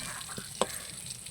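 Slices of brinjal fry in oil with a soft, steady sizzle, broken by a couple of light taps or clinks from a utensil; quiet and brief, no talk.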